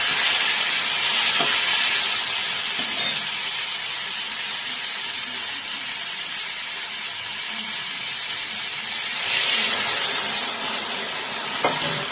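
Mixed vegetables for a vegetarian curry simmer and sizzle in a pan after water is poured in, a steady steamy hiss with a few louder bursts and occasional utensil taps, no talking.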